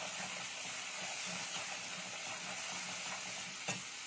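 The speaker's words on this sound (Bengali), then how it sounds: "পরিমাণ মতো হলুদ দিয়ে দেবো তেলে। একটু নেড়ে" Turmeric stirred into hot oil for a Bengali mixed-vegetable curry gives a steady, fairly quiet sizzle. Soft scraping stir strokes run under it, with one sharper clink near the end, and no voices.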